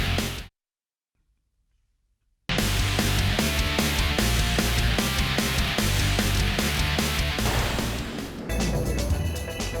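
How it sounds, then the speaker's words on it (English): Fireworks burst at a dirt speedway venue during a super saloon race meeting, dense crackling bangs and rumbling pops filling the air loudly after a brief silence, continuing steadily to the end. "So the fireworks happening in the venue, around the venue, and certainly on the racetrack."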